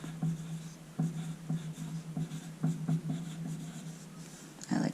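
A pencil scratches along paper while underlining a title, a series of short dry strokes with quick repeated rubbing bursts, close and clear, with no voices.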